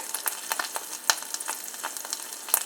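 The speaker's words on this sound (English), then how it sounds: "One more egg is cooking, which is the last egg." An egg frying in a pan, a steady close sizzle with frequent small crackles and pops scattered throughout, no talking.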